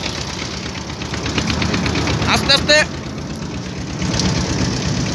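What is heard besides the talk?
trawler boat engine running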